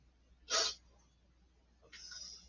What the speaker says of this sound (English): Oh, I'm gonna sneeze.